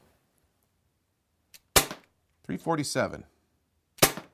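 Crosman C41 CO2 airsoft pistol firing, two sharp close cracks separated by a short spoken reading in between, otherwise quiet.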